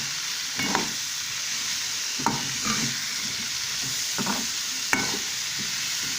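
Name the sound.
tomatoes sautéing in a pan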